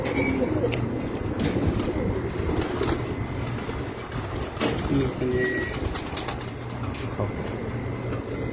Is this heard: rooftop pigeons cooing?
yes